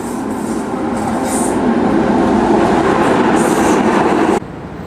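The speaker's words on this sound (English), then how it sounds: "Interesting watching these trams." A Budapest tram rumbles past close by, a steady loud rolling roar with faint high squeals, cutting off abruptly near the end.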